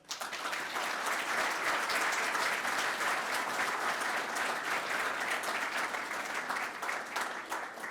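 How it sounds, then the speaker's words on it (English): An audience at a networking reception and panel discussion applauds the panelists with sustained, dense clapping that starts abruptly, holds steady for several seconds and thins slightly toward the end. "let's have a round of applause for them"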